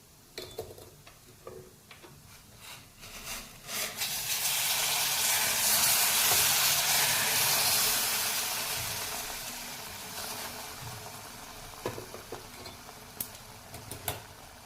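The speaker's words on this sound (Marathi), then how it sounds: "आता आपण यात गरम पाणी घालणार आहोत।" Hot water hits a hot pan of savoury semolina upma and a loud sizzling hiss swells up, holds for several seconds, then slowly fades, with a few faint clinks around it.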